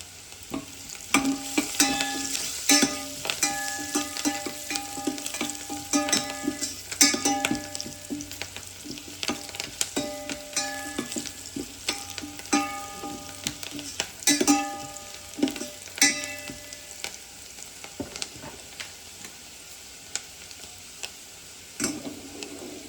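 Onions fry in a pan until reddish, giving a steady close sizzle with frequent clinks and scrapes of a utensil stirring against the metal.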